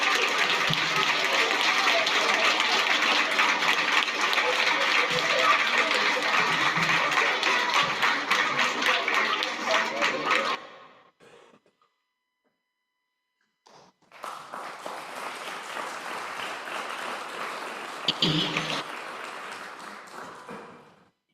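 A crowd at a Memorial Day church service bursts into sustained applause for about ten seconds, fades out, then a second strong round of clapping follows.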